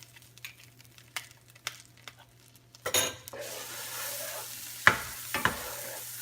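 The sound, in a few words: butter melting and sizzling in a frying pan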